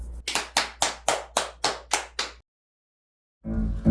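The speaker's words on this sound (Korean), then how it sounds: "박수" About eight sharp, evenly spaced hand claps ring out close by, followed by a second of silence and then a low rumble.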